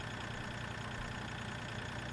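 A tractor engine idles in the Farming Simulator 2013 video game, a steady, even drone that runs unchanged throughout with no other sounds.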